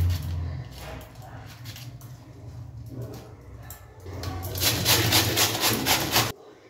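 A home-grown bottle gourd is grated into thin shreds by hand, a rhythmic rasping and scraping close by that grows louder and quicker toward the end before stopping abruptly.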